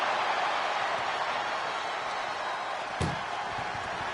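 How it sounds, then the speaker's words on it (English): A door slammed shut in a WWE wrestling video game, one short heavy thud partway through, set against a steady wash of crowd-like background noise. "Pushing with every fiber of their being to slam the door."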